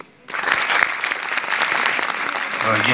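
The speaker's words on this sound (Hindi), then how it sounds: "ये तालियां रुकनी नहीं चाहिए" Dense audience clapping at a plastic-free India speech event, starting after a brief quiet moment and continuing strongly, with a voice heard toward the end.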